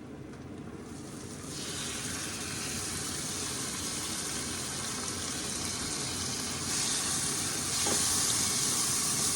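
Tomatoes cooking under a lid over low flame for pav bhaji, giving a steady broadband hiss and bubbling that swells slightly louder toward the end.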